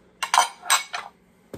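Fire King milk glass bowls clink as they are handled, giving a few bright, close, separate knocks of glass on glass in a quick, uneven cluster, ending with a duller thump.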